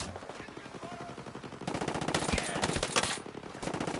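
Rapid automatic gunfire, likely from a video game, rattles in dense continuous bursts that grow louder and busier partway through, with brief pauses between volleys.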